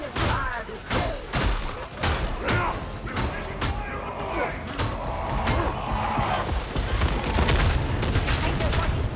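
Rapid bursts of gunfire and heavy thuds fill a Warhammer 40k Darktide battle, loud and dense over several seconds, with in-game voices talking over the shooting.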